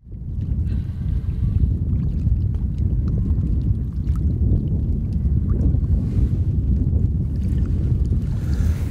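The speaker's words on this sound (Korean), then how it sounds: "지금 바람이 이어서 비까지 내리고 있습니다." Strong wind with rain buffets an outdoor spring crucian carp fishing spot among water plants, a loud continuous low roar of gusts hitting the microphone with scattered patters and crackles throughout.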